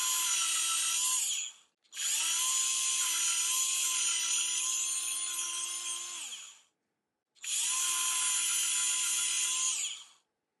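A Mercmind cordless electric cutter slices through quarter-inch-thick leather, its high motor whine running in three long bursts separated by short pauses, loud and close with no talk.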